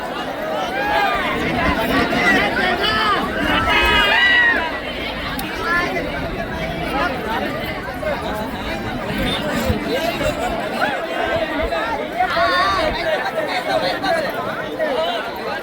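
A huge crowd of devotees shouts and chatters continuously during the Simhachalam hill procession, a dense roaring babble of many voices that stays loud throughout, with louder surges near the start and again toward the end.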